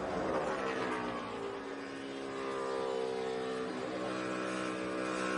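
Dale Earnhardt Jr.'s Hendrick Motorsports stock car engine heard from onboard during the Quicken Loans 400, a steady, loud, high-revving drone with a slight dip and rise in pitch as it holds speed.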